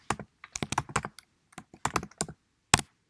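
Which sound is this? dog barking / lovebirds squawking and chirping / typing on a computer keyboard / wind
typing on a computer keyboard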